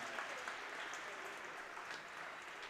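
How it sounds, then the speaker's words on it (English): Parents applaud the players after a girls' basketball weekend tournament, a faint, distant wash of clapping that carries evenly through the whole moment. "Parents, how about a big round of applause for these gals that played their heart out with a fantastic weekend tournament."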